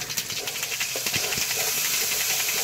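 Onion and spice masala sautés in a pan, a continuous loud sizzling hiss with faint scraping clicks of stirring, close by and unaccompanied by talk.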